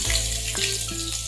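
Chopped onion fries in oil with mustard seeds, curry leaves and green chilli for kande pohe, giving a continuous close sizzle with faint tonal stirring sounds underneath.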